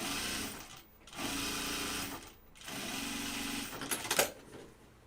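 A sewing machine top stitches a fabric bag in bursts of steady motor whir, with two short pauses between runs and a few sharper clicks near the end; no voices.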